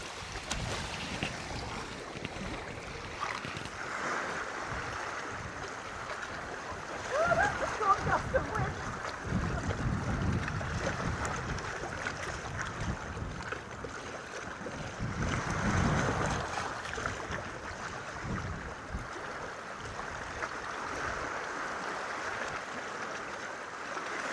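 A sailing boat out on a windy day with a swell. Steady gusting wind and the wash of water against the hull fill the whole stretch, rising and falling gently without a break.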